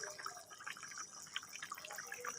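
Water boils in a pot covered with a lid, giving off faint, steady bubbling and small dripping pops. The sound is quiet and close, with no talking.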